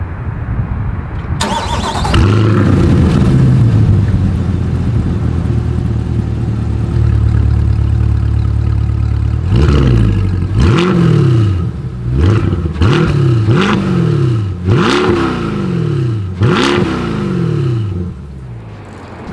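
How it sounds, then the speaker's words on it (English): A 2024 Chevrolet Corvette Stingray starts with a loud exhaust bark, settles into a deep, steady idle, then delivers a series of sharp blips, each rising and falling quickly, heard up close with no talking. "here is that exhaust clip."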